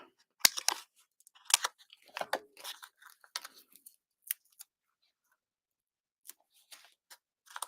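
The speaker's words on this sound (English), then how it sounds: "I'm going to cut this up." Scissors cut up a piece of paper card in a series of crisp, close snips and crunches, some quick and clustered, others spaced out with short quiet gaps between them.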